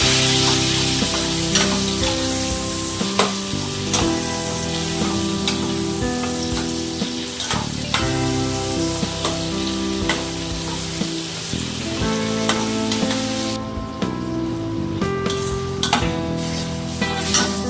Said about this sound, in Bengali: চিংড়ি মাছগুলোকে ভেজে নেব